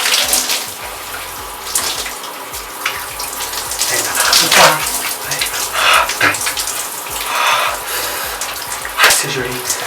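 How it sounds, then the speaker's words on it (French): Running shower water streams steadily throughout, a cold shower with a continuous broadband hiss and spatter close by, brief louder splashes now and then, and no talk over it. "Alors là, c'est la douche froide."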